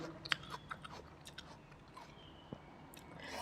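Close, quiet chewing of chilled, sweet, crunchy snow lotus (bua hima), with irregular crisp bites and wet crunches, no talking.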